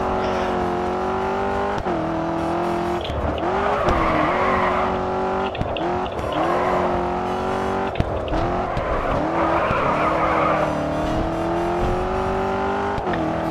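Race car engine in the Grid 2 video game droning steadily with shifting pitch, tires squealing and skidding as it slides off a curve, loud and continuous throughout.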